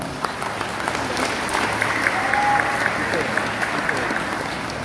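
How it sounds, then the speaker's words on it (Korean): Steady applause from a crowd at a Rotary district governor inauguration ceremony fills the room, continuous and fairly loud throughout. "뜨거운 박수 부탁드립니다."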